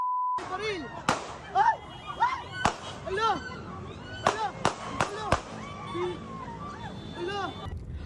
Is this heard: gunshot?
yes